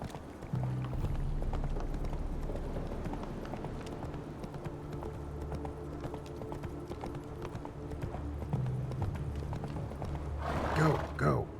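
Horse hooves clip-clop at a gallop in The Witcher 3, a steady rhythmic beat under game ambience and mechanical clatter, with a brief whinny and bustling noise near the end.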